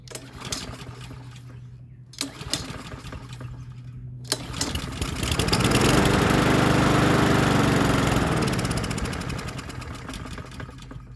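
A Troy-Bilt push mower with a Honda GCV160 engine, fitted with a new spark plug and started without the choke, gives a couple of pull-start rattles, then catches and runs with a loud, steady, close mechanical clatter.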